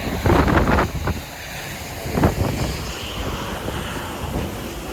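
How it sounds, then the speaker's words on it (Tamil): Strong wind blowing outdoors at Toronto during a snow storm, loud gusty buffeting against the microphone that surges in bursts and then settles into a steady rushing roar. "நல்ல செம காற்றடிக்குது."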